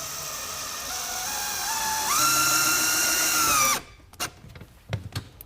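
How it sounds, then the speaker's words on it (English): A power drill drives top-frame installation screws while bi-fold shutters are mounted, a loud steady whine that rises in pitch partway through, then stops abruptly, followed by a few soft clicks and handling knocks. "we're going to install the rest of our top frame installation screws"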